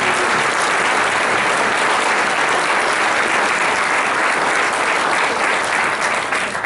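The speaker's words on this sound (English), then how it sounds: "give a round of applause to your great chairman for doing this work" Sustained, dense audience applause for the county party chairman at a political gathering in Goose Lake, steady and full throughout with no talking over it.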